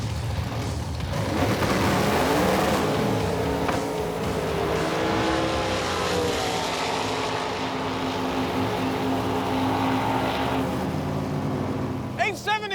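Two 8-second Roadkill drag race cars roar off the starting line together, a loud sustained engine blast that holds for several seconds and trails off, with a crowd and announcer voice mixed underneath.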